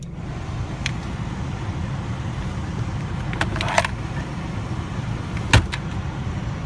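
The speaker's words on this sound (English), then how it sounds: "Gonna go ahead and turn on the fan." Cabin ventilation blower fan of a 2005 Scion tC running after a repair, a steady even whoosh over the idling car with a few faint clicks, close and continuous with no voices.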